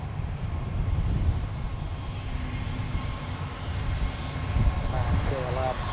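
Jet aircraft rolling for takeoff from runway 17 at Minneapolis–St. Paul airport, a broad steady engine roar holding loud throughout with a slight swell near the end.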